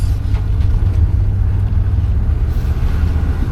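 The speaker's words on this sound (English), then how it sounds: "Motor sounds good, exhaust sounds good." Steady, close engine drone and exhaust rumble from a 1968 Oldsmobile 98 while driving, a continuous low hum with some road and wind noise throughout and no talking.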